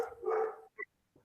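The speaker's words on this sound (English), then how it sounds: "the dog is barking" A dog barks indoors at home as children arrive: one drawn-out bark followed by two shorter, fainter yips, close by and with no talk over it.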